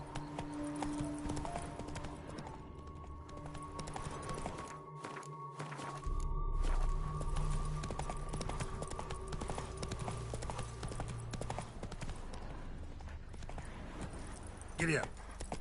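Roach, the horse in The Witcher 3, gallops with a steady clip-clop of hooves at moderate volume, and a voice speaks briefly near the end.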